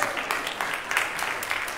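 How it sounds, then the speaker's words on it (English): A church congregation claps for the choir in the sanctuary, a short spell of soft, scattered applause from a modest crowd, rather distant and quiet. "Yes, yes, clap for the choir."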